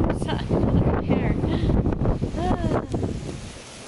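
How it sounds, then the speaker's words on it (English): Strong wind on a cloudy day buffets the microphone outdoors near palm trees, roaring and gusting continuously while people talk over it. "it's just windy and cloudy"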